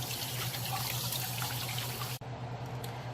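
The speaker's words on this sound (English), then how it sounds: "And then I'm going to wash my hands" Tap water running steadily into a sink while hands are washed, a close continuous splashing rush that cuts off abruptly near the end, leaving faint drips.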